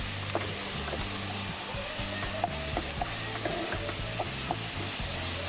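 A spoon stirs and scrapes through salted food in a hot frying pan, over a steady close sizzle with repeated irregular scraping clicks and no talking.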